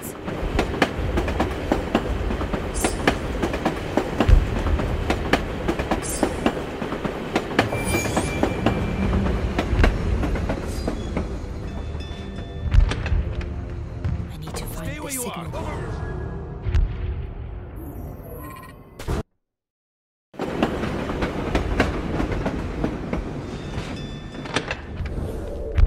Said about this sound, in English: This tram will take me to the edge of the Volga.